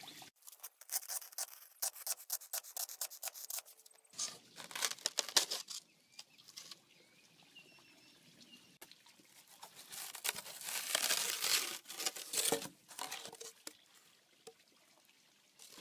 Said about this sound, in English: I'm going to use that to make several cuts and to trim out my bunny and get rid of the excess styrofoam